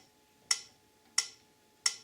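A metronome clicks at 89 beats per minute, three sharp, evenly spaced ticks sounding alone and close against quiet background hum.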